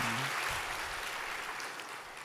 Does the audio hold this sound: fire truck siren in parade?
no